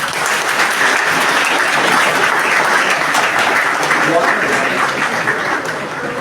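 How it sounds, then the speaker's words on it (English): A large audience applauds at the close of a teaching session, a dense, steady wash of clapping that holds loud and even throughout, with faint voices mixed in. "A big round of applause for me."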